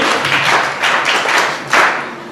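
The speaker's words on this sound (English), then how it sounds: "Okay, clap for him too." Secondary school students clap together at a classroom hygiene campaign. The applause is dense and steady, with short swells of louder clapping and no talk over it.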